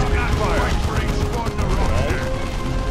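Sustained volleys of game gunfire from the Warhammer strategy game Dawn of War, a dense continuous crackle of shots and small blasts mixed with battle noise and unit voices throughout.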